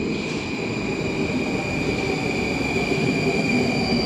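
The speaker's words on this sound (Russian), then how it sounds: "Такая, да, нью-йоркская подземка." A New York subway train rumbles steadily underground, its wheels and carriages producing a continuous loud roar with a high whining tone running throughout.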